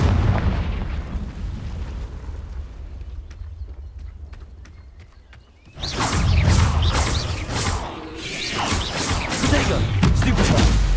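A fire-blast spell, Confringo, from the wizarding video game Hogwarts Legacy bursts in loudly at the midpoint with a sudden crackling explosive boom and fiery rumble, following a quieter stretch with faint ticking effects and low background hum.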